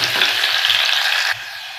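Finely chopped garlic fries in oil as it browns for a drumstick leaf curry, a loud close bright sizzle that drops abruptly to a fainter hiss near the end, with no speech.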